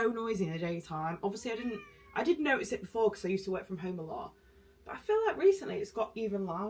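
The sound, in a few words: cat meowing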